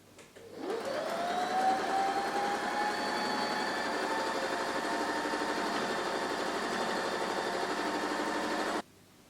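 A sewing machine top stitching a pocket piece for a reading cushion runs as a steady, close motor whir that starts up briefly, holds an even hum for about eight seconds, then stops abruptly.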